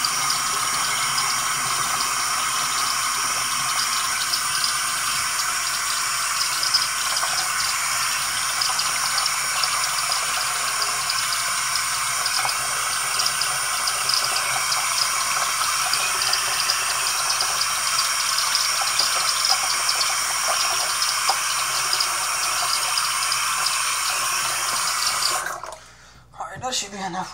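A tap runs in a steady, continuous gush while water is drawn for a hair rinse, close and even in level, then cuts off near the end.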